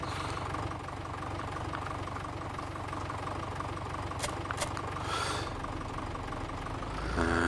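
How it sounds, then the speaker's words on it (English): A tractor engine idles close by with a steady, dense rumble and a slight knocking throb, running continuously with no change in pace throughout. "And now we leave the tractor here under cover"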